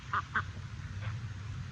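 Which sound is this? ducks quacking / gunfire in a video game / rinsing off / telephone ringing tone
ducks quacking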